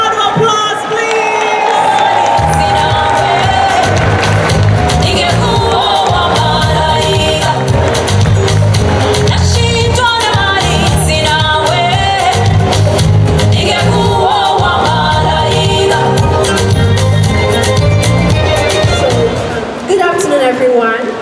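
Cheering and applause from an audience at the Miss Malaika pageant, mixed with whoops and crowd shouting over loud music, continuous and energetic throughout.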